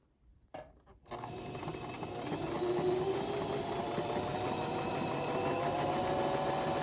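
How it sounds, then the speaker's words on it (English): A Bernina sewing machine stitches a bias piece for a face mask, starting after a brief quiet moment and then running as a steady, close, continuous whir that stays loud to the end. "we're going to just sew like just a little bit more than 1/16 of an inch down our bias piece"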